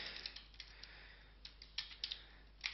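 Light taps on a computer keyboard while typing in a LaTeX editor, a sparse run of soft clicks in small bursts, close and quiet with no voices.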